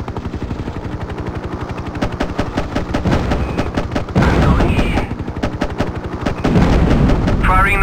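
Thirty-millimetre cannon pods on a Hind attack helicopter in a 1998 combat flight game, firing in rapid, rhythmic bursts that are loud and close, with cockpit warning tones between volleys.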